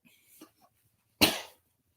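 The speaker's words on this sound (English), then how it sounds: "I had to cough." A single sharp, close cough bursts out after a few faint breathy sounds, then quickly fades into silence.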